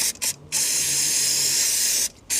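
A steady aerosol spray hisses in two bursts during a rear brake pad change on an NMAX 155 scooter, a short one at the start and a long continuous one lasting nearly two seconds, close to the mic.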